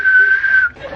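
A single sustained whistle tone imitating a swimming pool lifeguard's whistle, held loud and steady for most of a second before cutting off, with faint room noise after.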